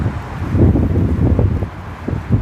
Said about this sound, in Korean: 아 바람 엄청 부네요 점점